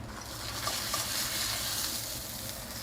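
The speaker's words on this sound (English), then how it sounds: "when you get the frying action, it's not bad." Steady oily sizzling of pork stir fry frying in a hot pan, a continuous crackling hiss with occasional small pops, close by and without talk.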